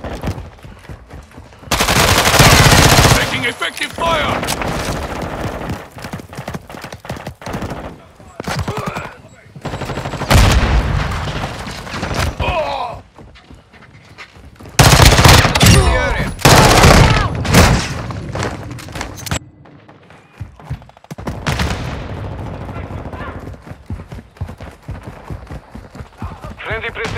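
Machine gun fire rattles through a battle in Call of Duty Modern Warfare 2, loud sustained bursts of automatic shots with booming impacts in between, broken by quieter gaps, while soldiers' voices shout over the combat.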